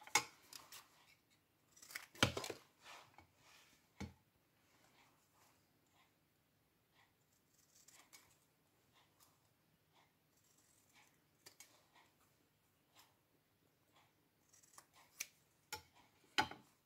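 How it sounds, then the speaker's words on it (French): Paper label being cut around its edges with scissors while making a mushroom house craft set, heard as a quiet run of snips and small rustles, louder bursts near the start and end, with no talking. "Je vais venir découper et entrer les bords de mon étiquette."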